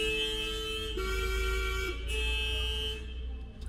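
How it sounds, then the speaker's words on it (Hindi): Car horns honk steadily in traffic near a tunnel on the road out of Shimla, sustained tones that sound close and loud and run almost unbroken, fading near the end. "अब सारे हॉर्न मारते"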